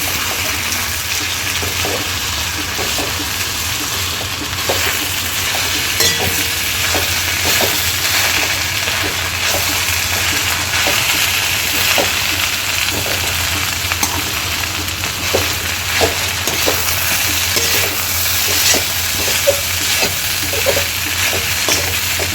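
Chana poha with lemon juice being stir-fried in a pan: a steady close sizzle runs throughout, broken by frequent soft scraping and tapping of a spatula against the pan, with no talking.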